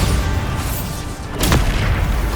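A single heavy Bombarda spell explosion in Hogwarts Legacy booms out midway through steady rumbling combat noise, loud and close with no voices.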